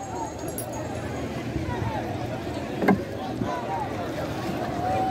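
A boat moves across water on the way to the Mayabi waterfall at Jaintiapur, Sylhet, with a steady wash of water and wind rumble and a brief knock near the middle. Voices talk over it.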